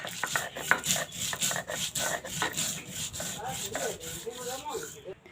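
Black mustard seeds, salt and four chillies being ground into a fine paste on a grinding stone, a steady rough rubbing and scraping in quick back-and-forth strokes, close and continuous.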